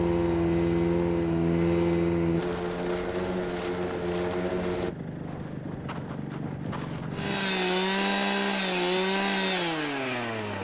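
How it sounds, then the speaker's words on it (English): A 36-inch power ice auger drills through thick black lake ice with a steady, loud two-stroke engine drone, cutting out briefly and then revving back up with its pitch rising and falling. "That's a 36-inch auger"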